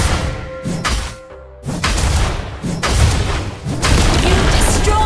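A turret is destroyed in a Mobile Legends match, heard as a run of loud booming, thudding impacts and explosive crashes layered over busy game effects, with a short quieter dip before the blasts resume.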